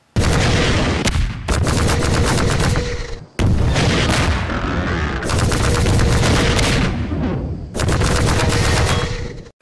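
Rocket launcher blasts and battle explosions in the Half-Life 2 Episode 1 video game, loud dense booming bursts in several long blocks separated by brief gaps of near silence.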